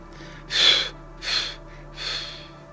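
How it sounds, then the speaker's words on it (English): Three quick, breathy exhales spaced evenly and close up, each a short puff of air fading slightly from the first to the last. "Then do 3 quick exhales."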